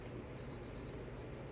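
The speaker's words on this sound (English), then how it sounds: "And I am adding a bit more pressure to the pencil so I can get" Pencil pressed firmly on paper while shading a foggy morning landscape drawing, a continuous close, dry scratchy rasp with slight rhythmic strokes throughout, no voices.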